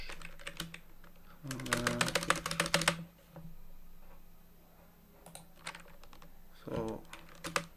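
Code typed on a computer keyboard in rapid bursts of close, crisp key clicks, with a loud dense flurry at one point and scattered lighter taps later, a voice briefly speaking between bursts.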